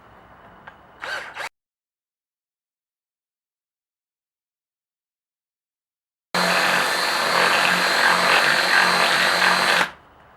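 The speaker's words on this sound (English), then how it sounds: "Alright, just keep on drilling." A power drill bores a hole with a larger bit after a small 1/8-inch pilot, in a homemade train horn build; a short burst comes first, then a long, steady, loud whirring run after a silent gap.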